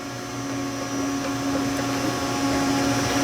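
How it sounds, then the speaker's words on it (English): Steady mechanical whir of an ice cream batch machine running at full speed while extracting honey pistachio ice cream, a continuous motor drone with tonal hum, gradually rising slightly in level. "When I extract it out, I'm going to raise my speed up all the way so the product gets out of the machine quicker"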